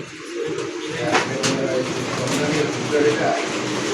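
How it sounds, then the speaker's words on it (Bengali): Pigeons at a bird market, with a low, continuous murmur of cooing and busy background bustle from the crowded setting, steady and fairly loud throughout. "আর এই জায়গায় কবুতর গুলা, এই যে একটা বাচ্চা নিয়ে ঘুরছে"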